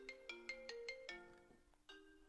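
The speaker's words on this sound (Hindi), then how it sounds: "सर के फोन की घंटी तो तेरी जेब से बज रही है" A mobile phone ringtone plays a bright, repeating melodic tone pattern, clear and steady, with no talking.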